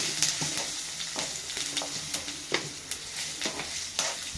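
Green chillies with turmeric and asafoetida sizzle and fry in a pan while being stirred, giving a steady close crackle with repeated scraping stir strokes and no talk.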